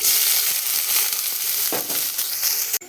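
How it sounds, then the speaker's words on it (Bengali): Two medium chopped onions hit hot oil with cumin seeds and a dried chilli, sizzling loudly and steadily, with a scrape of stirring and a sharp clatter at the end. "জিরেটা ভালো করে ভাজা হয়ে গেলে আমি এর মধ্যে দিয়ে দেবো দুটো মিডিয়াম সাইজের কুচনো পেঁয়াজ"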